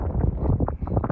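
Low, rumbling wind buffeting a microphone at an outdoor steel-target shooting range, steady and close, with faint gusty fluctuations and no clear voices.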